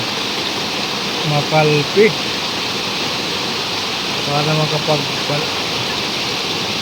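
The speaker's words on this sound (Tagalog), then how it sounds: "napabalik muli tayo sa ilog" Steady broadband rush of a river flowing, continuous and fairly close, with cold water where people are bathing; a couple of short bursts of voices talk over it midway.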